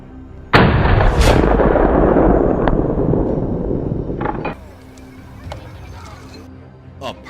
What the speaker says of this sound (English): chose a favorable angle and pulled the trigger